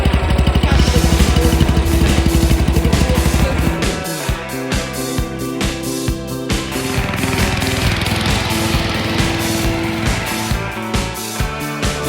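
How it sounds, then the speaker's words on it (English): A ride-on lawnmower engine runs steadily and loudly up close while being driven through the Molesworth, its drone shifting in pitch partway through as the machine changes pace. "Lovely mower here."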